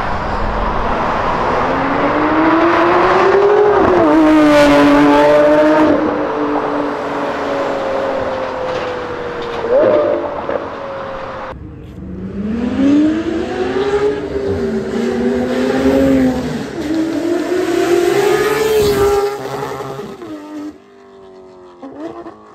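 Porsche accelerating hard and revving, its engine climbing and rising through the gears in loud, close passes with a brief lift between pulls, roaring strongly before fading at the end; no talk over it.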